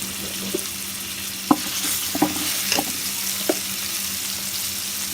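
Cumin and garlic paste frying in a pan with eggplant and dried fish, a steady close sizzle broken by several sharp scraping stirs of a utensil, with no voices.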